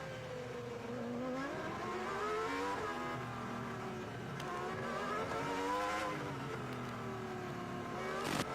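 A 2002 Formula 1 car at Monaco, engine climbing toward nearly 18,000 rpm: a high, shrill engine whine rising and falling through repeated revving sweeps. It is steady and fairly distant, with no talking.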